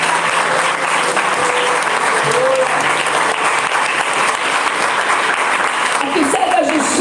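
Loud, dense applause from a church congregation during a sermon, a continuous roar of clapping filling the whole stretch, with faint voices and cheers rising within it toward the end.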